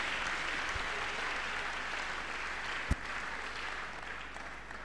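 A church congregation claps during a Tuesday miracle service, a faint, even wash of hands heard from a distance, with one sharp knock partway through.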